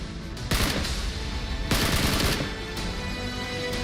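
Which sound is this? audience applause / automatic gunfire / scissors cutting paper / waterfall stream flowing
automatic gunfire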